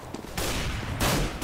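A flashbang grenade goes off in CS:GO amid a dense burst of gunfire, loud and close, with two sharp surges of crackling blasts in quick succession and no talk.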